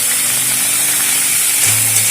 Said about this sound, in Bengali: লবণ হলুদ দিয়ে ভালো করে মিশিয়ে নিয়ে বেশ কিছুক্ষণ ধরে লাউটাকে খুব ভালোভাবে কষিয়ে নেব।